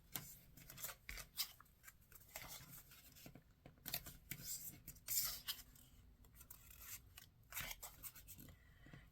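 Scissors snipping through book-page paper and cardstock for a craft gift topper, soft and close, with irregular cuts and rustling scrapes scattered over several seconds, no voices.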